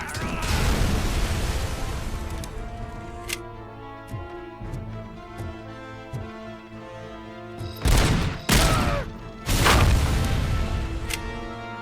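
Gunfire rings out in the RoboCop: Rogue City video game over a steady backdrop of game music. Scattered shots come first, then several loud, close bursts of fire near the end.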